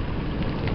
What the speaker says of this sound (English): Because it is now starting to rain.